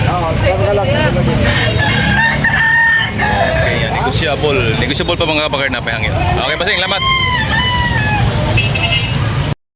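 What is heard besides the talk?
roosters crowing, chickens for sale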